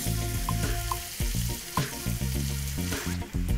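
Cooked prawns sizzling in a pan of Thai sauce, a close, continuous bubbling fry with a low rumbling bed and occasional clinks and scrapes of stirring, heard alone.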